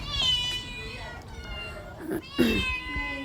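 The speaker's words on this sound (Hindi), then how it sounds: "उधर बिल्लियाँ भी मियाँ मियाँ कर रही थी लंच के इंतज़ार में।" Cats meow several times, high and close, a few short cries spread across a few seconds with a voice talking softly underneath.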